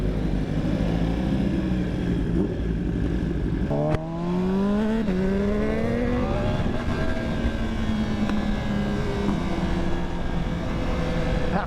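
A Yamaha R1 sport motorcycle's engine revs up through rising pitch sweeps after a brief shift gap, loud and close over steady road and wind noise, then settles into a high cruising drone.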